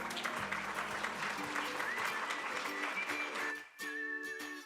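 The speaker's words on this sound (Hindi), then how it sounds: "जोरदार तालियों से स्वागत कीजिए" Audience at a direct-selling success seminar applauds loudly and steadily as a distributor is welcomed to the stage, with background music tones running under the clapping and a brief dip near the end.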